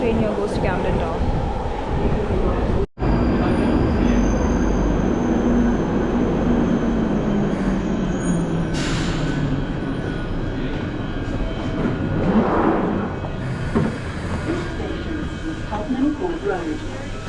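A loud, steady London Underground Northern Line train rumble and roar fills the space, with a brief cut near the start and faint higher squeals drifting over the noise.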